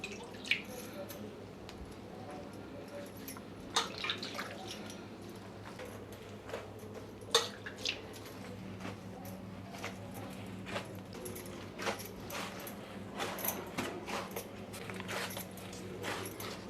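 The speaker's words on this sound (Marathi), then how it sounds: "थोडं थोडं पाणी घेऊन आपल्याला हे पीठ चांगलं मऊसर मळून घ्यायचं आहे" Rice flour dough for bhakri is kneaded by hand with small splashes of water, producing faint, sporadic wet squishes, soft slaps and drips close by in a quiet room.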